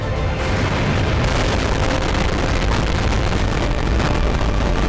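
An atomic bomb test explosion rumbles as a continuous, loud, heavy roar with deep booming and crackling spread across the whole stretch, steady and unbroken.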